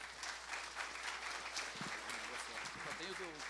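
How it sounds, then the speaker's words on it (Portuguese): An audience claps for speaker Cristiano Kruel as he steps up at a new economy talk, a steady wash of applause with a voice speaking faintly underneath. "Palmas para ele"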